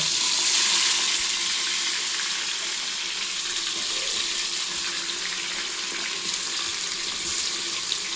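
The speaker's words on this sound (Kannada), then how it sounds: "ಸ್ವಲ್ಪ ಆನಿಯನ್ಸ್ ಫ್ರೈ ಆಗಿದೆ." Onions frying in ghee over a low flame for a wedding-style vegetable pulao, a continuous bright, hissing sizzle close to the pan, fairly soft and even, with no voices.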